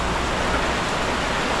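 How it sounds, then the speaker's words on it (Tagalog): Heavy, nonstop rain pours on a small hut, a dense, even hiss that stays loud and unbroken throughout. "kasi sobrang lakas ng ulan, walang tigil mga kangiti"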